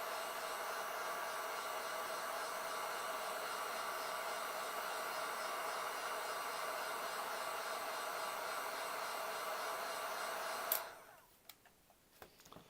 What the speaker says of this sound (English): Now the heat gun is 2 settings, a low and a high. You want them in the high setting for doing heat shrink tubing.